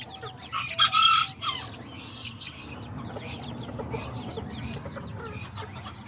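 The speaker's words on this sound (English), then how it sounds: "Looks like there was 2 little roosters fighting over there" In a backyard cage, a small rooster lets out a short, loud crow near the start, followed by softer, steady clucking from chickens close by.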